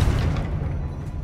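A Confringo fire spell in the Hogwarts Legacy video game lands as a deep, loud, rumbling boom that decays over about a second, heard alone.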